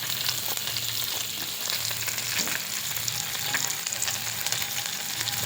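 Bangda, Indian mackerel, frying in a pan crackles and spits with a dense, steady sizzle heard up close, the popping irregular but constant throughout, with no speech.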